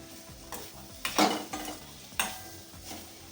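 Vaghareli rotli, tempered flatbread pieces, stirred in a pan on low heat, giving a soft steady frying sizzle with a few louder scraping stirs near the start and middle, no voices.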